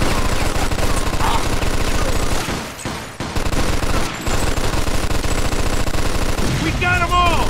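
Dense, loud automatic gunfire from the video game Mafia 2 rattles in rapid continuous bursts, with a short lull partway through before the shooting resumes.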